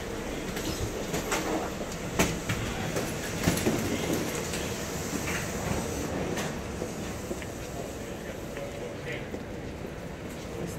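The Atlanta Airport SkyTrain runs along its track with a steady close rumble and rattle inside the car. Passengers talk throughout.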